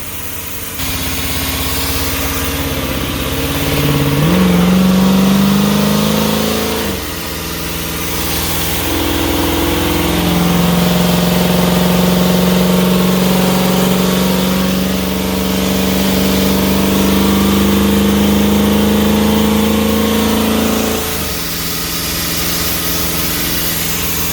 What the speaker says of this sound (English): That high RPM stuff is a lot scarier when the engine's right there.